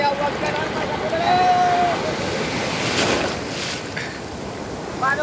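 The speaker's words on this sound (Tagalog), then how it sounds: "Manood ka lang ng manood para ma-experience mo ang ganitong malalaking alon." Large ocean waves break and wash continuously onto a beach in Brunei, a loud rolling surf roar mixed with gusty wind buffeting the microphone.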